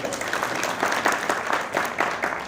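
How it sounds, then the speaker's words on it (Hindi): Applause at a night-shelter inauguration event hosted by a hotel, a crowd clapping in a steady, lively patter that stays fairly loud and continuous from start to finish, with no voices over it. "इसके लिए फिर से मैं चाहूंगा कि जोरदार ताली बजाएं"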